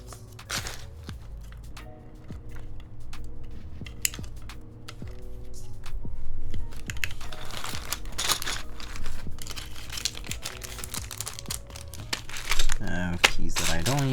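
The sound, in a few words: handling EnjoyPBT Blue Blink PBT keycaps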